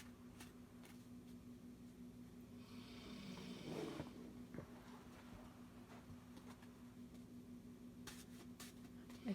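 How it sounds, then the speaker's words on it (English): A pet snores right beside the microphone, with soft, slow breathing rumbles in a quiet room and a low steady hum underneath. "she's laying as close to the microphone as she can, snoring her little heart out"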